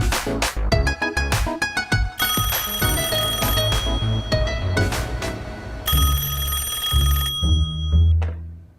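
Telephone ringing in a domestic drama scene, a bright repeating electronic ring in bursts over a steady musical background that swells and fades; no one speaks.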